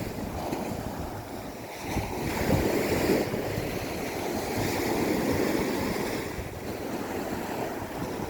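Waves wash against a rocky shoreline where the sea has pushed the stones back, a steady moderate roar that swells and eases, with wind across the microphone.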